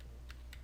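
A few faint key presses on a computer keyboard while a URL is typed into a sensor settings web page, two brief clicks against a low steady hum.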